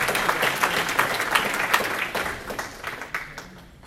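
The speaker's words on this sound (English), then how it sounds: "Give a round of applause for him." An audience applauds at a business networking event, with dense, steady clapping from a crowd that holds strong and then gradually fades toward the end.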